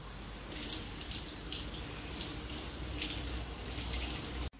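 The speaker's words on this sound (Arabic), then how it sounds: "باش نغسل نعناعي بالكدا" Running tap water pours steadily as fresh mint is washed for Tunisian green tea, a continuous close hiss of flowing water that stops abruptly at the end.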